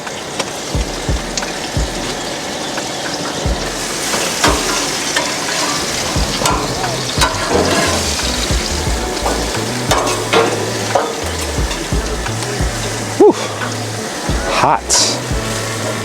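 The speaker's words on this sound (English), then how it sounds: "Nicely grilled turkey burgers there, as you can see." Turkey burgers seasoned with onion powder and all-purpose seasoning sizzle loudly on a hot hibachi grill, a steady crackling hiss with occasional scraping and stirring, close by, with a voice talking at times.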